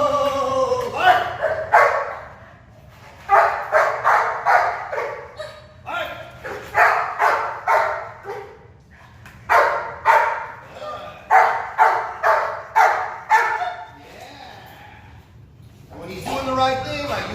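A dog barks repeatedly on command during ball-drive training, sharp rhythmic barks in bursts over several seconds, close and loud, with a trainer's praising voice between them.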